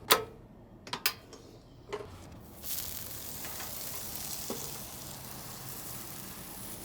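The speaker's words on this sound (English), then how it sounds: "I'll check back once the sandwich is toasted." A toasted sandwich maker in a caravan, running from a portable power station, gives a few sharp clicks and then settles into a faint, steady hiss as the sandwich toasts, with no voices.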